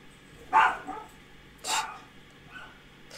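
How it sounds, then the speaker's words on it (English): Indoor dogs give three short barks, the first two loud and close, the last softer, spaced about a second apart over quiet room noise. "My dogs."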